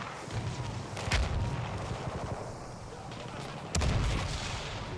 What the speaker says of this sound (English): This has been a really good exchange of gunfire here.